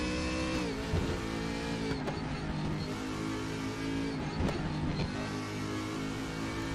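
On-board view of a race car lapping the twisty second sector of the short Sonoma track, a loud, sustained, close engine drone that rises and dips with brief shifts through the corners.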